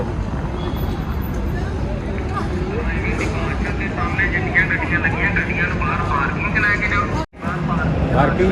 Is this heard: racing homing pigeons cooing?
no